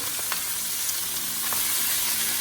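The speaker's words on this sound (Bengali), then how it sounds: "রসুনটা একটু লালচে হয়ে যাওয়ার পরে আমরা সবজিগুলো সুন্দর করে ফ্রাই প্যানে ঢেলে দিয়েছি।" Mixed vegetables frying with browned garlic in a frying pan, a loud, even, close sizzle with a few faint stirring taps, no voices.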